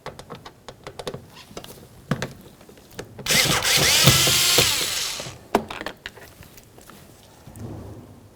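A power tool backs out two Phillips head screws from a 2003-2007 Honda Accord front door panel, one sustained whirring run of about two seconds amid scattered clicks and handling taps, close and fairly quiet.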